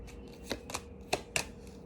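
Tarot cards are shuffled, with a few crisp riffling bursts and soft slaps spaced irregularly, close and moderately loud against a quiet room, with no talking.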